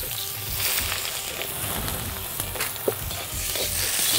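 Ginger sizzles steadily in a hot pan with onion and cumin for a Punjabi aubergine curry, a dense continuous frying hiss with a brief stir clatter near the end.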